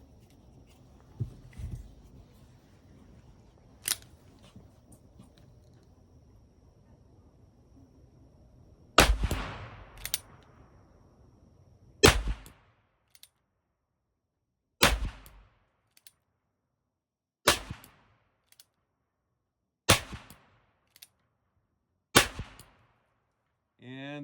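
A Ruger Super Wrangler .22 single-action revolver fires six sharp, widely spaced shots outdoors, each crack followed by a short echo, with faint handling noise between shots.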